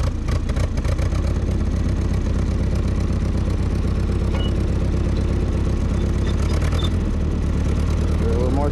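A Ford 8N tractor engine runs close by with a steady low chugging idle that picks up as the throttle is opened, with a voice heard briefly over it.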